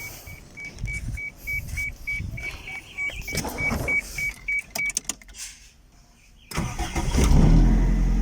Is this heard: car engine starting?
yes